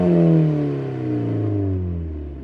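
A Mazda NC Miata accelerates hard while driving away, its engine note a strong revving drone that slides downward in pitch and gradually fades as the car recedes.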